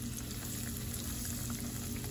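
Fish pieces fry in hot oil with a steady, soft sizzling hiss that continues evenly throughout, with no talking.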